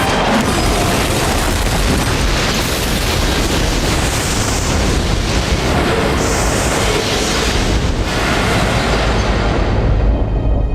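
A bomb bursts beneath a passenger seat aboard an airliner on Flight 434, a loud, sustained roaring blast that fills the whole stretch without letting up.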